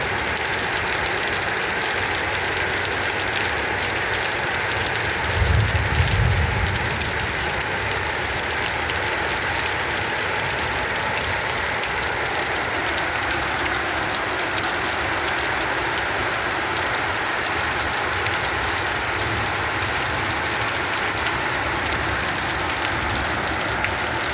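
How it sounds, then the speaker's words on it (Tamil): Steady heavy rain pours down in Vavuniya, a dense constant wash of noise with a brief low rumble partway through, no voices. "கஷ்டத்தை உணர்ந்து மழையாக பொழியுது"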